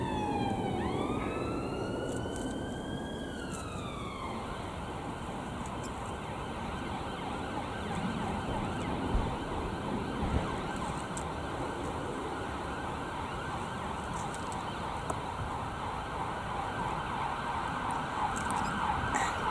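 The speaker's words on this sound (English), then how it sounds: "Ignore the siren." An emergency vehicle siren wails as it passes near an allotment garden, its rising and falling tone clear over the first few seconds and then giving way to steady outdoor background noise.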